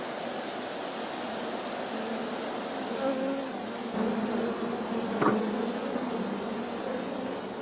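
Wild honeybees hum at their nest inside an ancient, centuries-old tree on Jirisan mountain. The dense buzzing swarm forms a continuous wash of sound, with a few faint, sharper knocks near the middle and no talking.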